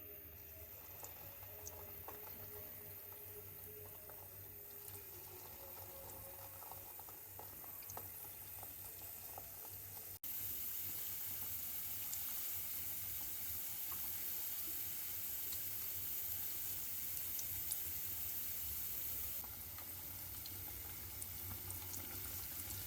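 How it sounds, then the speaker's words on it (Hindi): Chicken bread balls deep-frying in hot oil over medium heat, a steady low bubbling hiss that carries on without a break and grows somewhat brighter and louder about halfway through, with no talking. "मीडियम आंच पर गोल्डन कलर आने तक फ्राई करेंगे"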